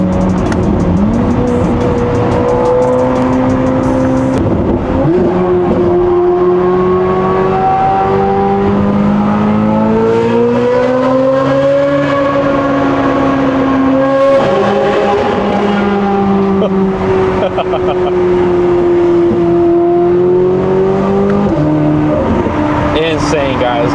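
Corvette with a stainless F1-style valved exhaust accelerating hard through an underpass, a loud rising and falling engine wail that echoes continuously throughout, with a voice talking under it.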